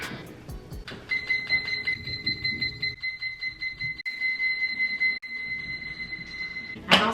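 A kitchen timer for proofing sweet potato pita dough beeps continuously in a steady, high electronic tone for several seconds, loud and close over faint background noise, then stops abruptly.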